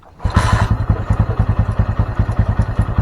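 A Honda Mega Pro motorcycle with a faulty charging system fires up with a brief rising burst, then settles into a steady, close, rhythmic single-cylinder thump at idle.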